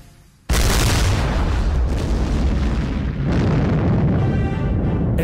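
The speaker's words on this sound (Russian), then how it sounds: "Это плановый взрыв на Красногорском руднике." A planned blast at the Krasnogorsk bauxite mine, where the ore lies under dense rock, erupts as a sudden massive boom followed by a sustained, roaring rumble of debris that stays loud for several seconds.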